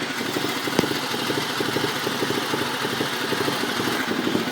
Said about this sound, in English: The idle seems to be pretty high, but I kind of like it like that.